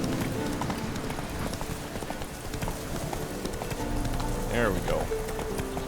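Video-game horse Roach galloping in The Witcher 3, a steady run of hoof clip-clops under continuous game music and ambience, with someone talking over it.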